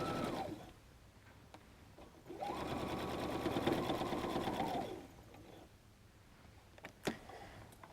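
A sewing machine runs a basting stitch at 2.5 length across the bottom of a bag pocket, a steady whir lasting a few seconds, with quieter mechanical ticks before and after.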